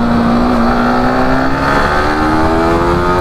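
Motorbike and car engines roar loudly during street racing in a city, a continuous close droning whine with steady rising pitch.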